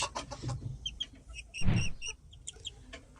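Chickens cluck in a backyard coop, short clucks and calls scattered through, with one louder burst of fluttering or scuffling near the middle.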